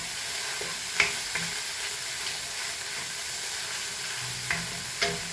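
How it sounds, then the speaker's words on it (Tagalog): Garlic, onion and liver spread sizzle in a pan as they are sautéed for ginataang langka, a steady frying hiss with a few brief stirring clinks, close and moderately loud. "ihalo nyo po yung liver spread sa pagisa guys"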